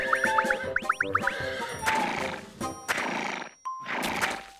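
Horse neighing and whinnying repeatedly in a series of shrill, wavering calls, with snorts and short gaps between bursts, fairly close and clear.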